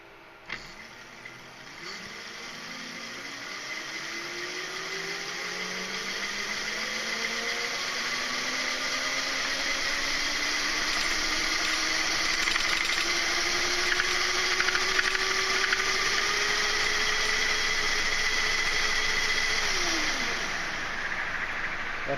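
An ebike hub motor wired in a delta-star relay setup spins up, its whine climbing steadily in pitch for about twenty seconds and then cutting off abruptly.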